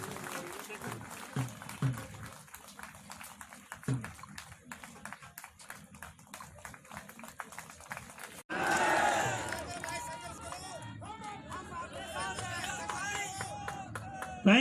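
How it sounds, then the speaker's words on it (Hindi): Crowd applause welcoming Honorable Judge Pranav Joshi at a Delhi traffic police oath event for auto drivers: a long spell of dense clapping that gives way to louder, busier crowd noise and chatter. "जोरदार तालियों से स्वागत करेंगे"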